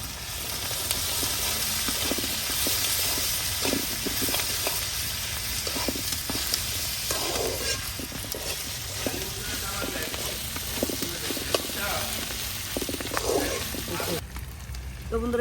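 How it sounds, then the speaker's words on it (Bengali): Dried loitta fish with garlic and chili paste frying in oil in a pan, a steady close sizzle with occasional stirring scrapes throughout. "এই যে মরিচ বাটাটা দিয়ে দিব, দিয়ে আবারও কিছুক্ষণ আমি করে নিব তেলের সাথে"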